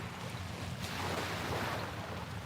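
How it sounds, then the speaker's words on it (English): Ocean waves wash and break continuously on a shore on a dark early morning, a steady broadband roar with some wind noise across the microphone, no voices. "how calming are the waves, right?"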